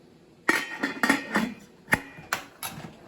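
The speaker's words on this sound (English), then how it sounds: "put the top back on and bring it up to a boil again" A metal lid set back onto a canning pot for a boil while canning beans and cucumbers: a series of sharp metallic clanks and clinks, about six distinct hits with short rattling tails, close and fairly loud, no talk.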